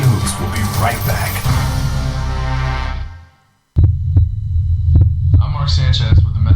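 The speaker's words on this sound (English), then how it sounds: "This is the actual sound of my heartbeat." A human heartbeat throbs as steady low pulses, heavy and close. They begin right after a loud stretch of other sound cuts off into a short silence.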